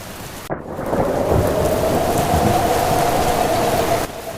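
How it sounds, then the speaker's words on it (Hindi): Heavy rain pours steadily with gusting wind as a thunderstorm breaks, a loud crack of thunder opening the downpour, which then roars on without a break until it drops away near the end. "तभी बहुत जोर से हवा और पानी गिरने लगता है। बहुत तेज तूफान आ जाता है।"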